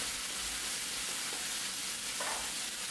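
Pickled bamboo shoots stir-fried with pork belly and red curry paste, a dense, even sizzle hissing continuously close by with a few soft stirring touches and no talk.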